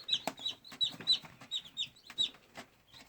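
Small Brahma chicks near a hatching setup give quick, repeated high peeps and soft clucks in short bursts, quiet and close, with no one talking.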